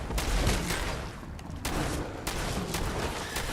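A shotgun firing in Fallout 4, a loud close blast followed by a few more booming shots with rumbling tails, spaced about a second apart.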